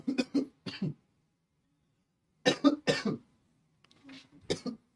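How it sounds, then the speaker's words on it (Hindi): A person coughing in several separate bursts, each a quick cluster of two or three close, moderately loud coughs with quiet gaps between them. "सर एक मिनट, खांसी आ रही है"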